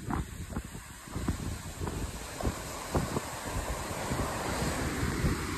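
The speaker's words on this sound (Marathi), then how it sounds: "किती स्पीडनं पाणी चाललंय बघा." A fast-flowing stream that feeds Thoseghar waterfall rushes in a steady, broad hiss, with a constant close water roar that never lets up.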